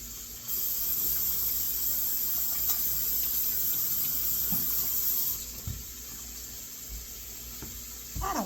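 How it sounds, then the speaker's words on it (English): Hands are rinsed under a running kitchen tap, a steady hissing stream of water that starts abruptly, runs for several seconds, then changes as the hands move and splash, with no talking. "Give my hand a quick wash here."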